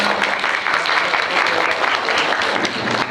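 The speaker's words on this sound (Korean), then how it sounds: "박수." An audience at a film screening talk event claps in a dense, continuous burst of applause, loud and close, lasting the whole moment.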